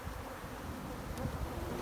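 Honey bees swarm inside a chimney hive, a dense continuous buzzing drone that stays loud and close throughout without pause or voices.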